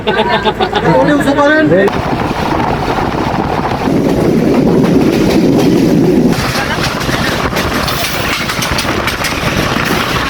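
A crowded passenger train on the Khulna to Jessore line rumbles along with a steady, loud mechanical drone and rattling, while voices and a brief burst of sound rise over it near the start.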